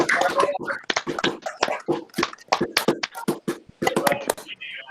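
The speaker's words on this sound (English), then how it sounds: "All right, let's give Rachel a round of applause." Scattered hand claps from a small group during a virtual happy hour, irregular and close, with a voice overlapping part of the clapping.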